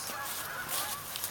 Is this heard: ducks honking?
yes